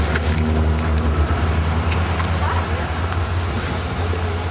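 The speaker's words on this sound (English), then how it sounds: "Some of the buses bringing the parents back" Buses pull in at West Point on reception day, bringing parents back: a steady, loud low engine rumble and roadway noise continue throughout, with voices talking nearby.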